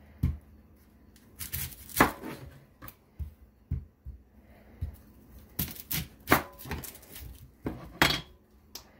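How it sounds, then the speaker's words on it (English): Onions being chopped on a cutting board while making acorn squash soup: irregular knife strikes and thuds in short bursts, fairly close and moderately loud, with pauses between clusters of cuts. "So I'll chop these up"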